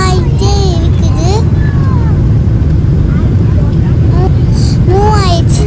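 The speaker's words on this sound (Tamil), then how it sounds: "ஃப்ளைட் வந்து ரன்வேக்கு வந்துருச்சு. ரன்னிங் ஆகி டேக் ஆஃப் ஆகும்." Loud, steady broadband roar of an Emirates passenger jet rolling down the runway for take-off, heard from inside the cabin, with a child and an adult talking over it at intervals.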